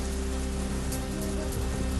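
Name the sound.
heavy rain with stormy wind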